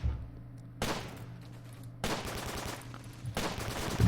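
Gunfire in the World War II strategy game Close Combat: Gateway to Caen, coming as three separate bursts of rapid automatic shots with brief quieter gaps between, crisp and fairly close over a low steady background hum.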